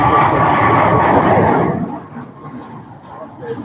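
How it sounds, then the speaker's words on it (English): A Jet2 Boeing 737-8 coming in to land at Manchester Airport, a loud broadband jet roar that holds steady and then fades to a quieter rumble, with faint talk underneath. "Behind that is a 737-8 of Jet2 coming into land."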